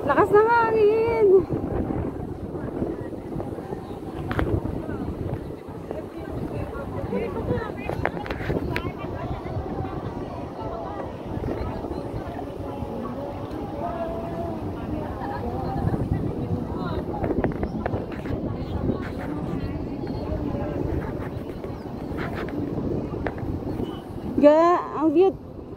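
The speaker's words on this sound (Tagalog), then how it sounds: "Lakas ng hangin!" Strong wind buffets the microphone on the Hong Kong waterfront, a constant rough rumble and gusting roar under frequent talking and voices nearby.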